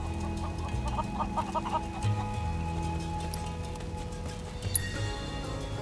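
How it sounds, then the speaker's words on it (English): Chickens in the Final Fantasy 7 Rebirth video game, with a flock clucking around a farm, repeated short clucks over a steady game-world background hum and some clip-clop footsteps. "I can't keep up with a flock of chickens."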